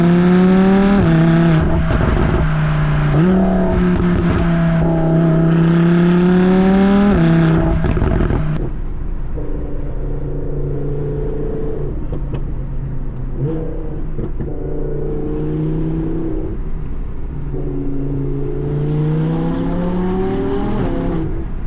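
An Audi R8 5.2-liter V10 with a Capristo exhaust revs hard with loud rising and falling pitch sweeps, then settles into repeated throttle blips and gear-like climbs, close by, with no talking.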